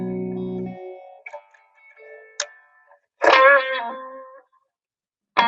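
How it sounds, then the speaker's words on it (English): A guitar played through an analog spring reverb modeler rings out in short, sparse phrases and plucked notes, with bright attacks trailing into splashy decays and gaps of near silence between them. "that reverb is a spring modeler of a room."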